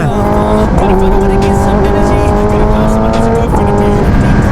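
A Kawasaki ZX10R sport motorcycle engine revs high and loud up close, a strained steady whine that drops and climbs again partway through and near the end.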